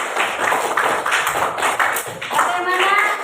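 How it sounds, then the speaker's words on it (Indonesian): Schoolchildren in a classroom clap together for a few seconds in a quick, uneven burst, with voices mixed in among the claps. "Kita beri tepuk tangan untuk kita semua."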